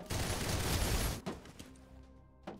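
Dense burst of automatic gunfire from a fan-shaped enemy in the shooter game Snowbreak: Containment Zone, a loud sustained roar of shots that cuts off abruptly, followed by a few scattered quieter pops.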